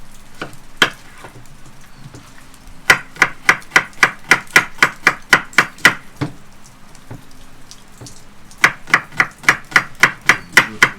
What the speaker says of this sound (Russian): Володя, весь лук нарезаем.